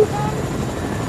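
A helicopter in the video game Fortnite, a steady droning rotor and engine rumble, loud and continuous over the whole short moment.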